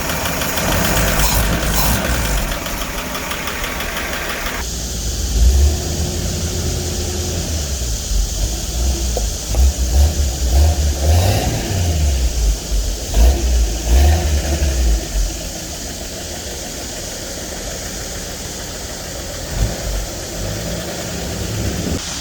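A 1958 Ford F100 pickup engine with slightly off timing runs loud and close, revving hard with uneven surges through the middle before settling back to a steady idle; no one speaks.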